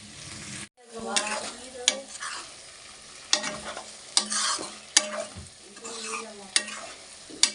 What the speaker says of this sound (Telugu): దీన్ని కొంచెం వేగనిద్దండి